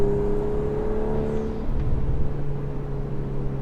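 A Volkswagen Golf R drives with a steady engine drone and turbo whir inside the cabin, its pitch dipping partway through as the car shifts or lifts, with no talking.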